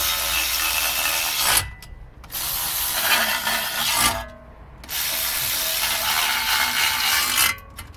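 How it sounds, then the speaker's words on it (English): Bolts are tightened during suspension reassembly on a BMW 320d E90, heard as three long stretches of loud, rasping, ratchet-like mechanical noise close to the microphone, separated by short quiet pauses. "So 4 bolts, I've already nipped one up, just do the rest."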